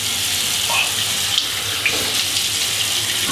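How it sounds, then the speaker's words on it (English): Water runs steadily from a tap into a sink as someone rinses their eyes, a constant close hiss of flow with no talk over it. "we're washing it off."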